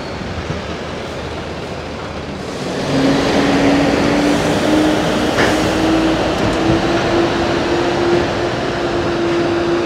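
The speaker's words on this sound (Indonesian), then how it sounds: "Ini dia bus yang kita naikin masuk ke kapal" A bus drives aboard a ferry ship, its engine droning steadily and close, rising in pitch and loudness partway through as it climbs on, with a constant rumbling background.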